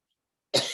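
A narrator's voice imitates a cough, a single short, close, rough burst that breaks out of silence. It fits Stubb, the whaler in Moby-Dick.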